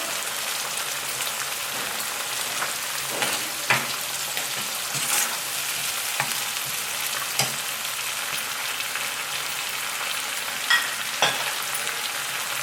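Ingredients for biryani, with a pinch of turmeric, frying in a pan make a continuous even sizzle, with occasional sharp clicks and taps from stirring, close and steady throughout.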